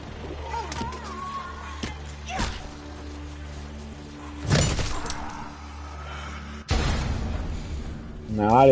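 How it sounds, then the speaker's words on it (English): An explosion with glass shattering in the video game Dead Island 2, heard as loud crashing bursts midway and again near the end amid other game noises, with a voice talking at points. "I don't know how that explosion happened."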